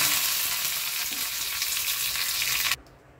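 Curry leaves and mustard seeds crackle and sizzle loudly in hot oil, a bright hissing spatter that cuts off abruptly near the end, leaving quiet.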